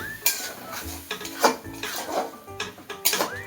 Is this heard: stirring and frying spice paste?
yes